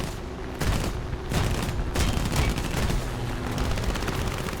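A P-39 Airacobra fires its 30 mm cannon in War Thunder, loud rhythmic booming shots repeating every half second or so over a steady engine drone.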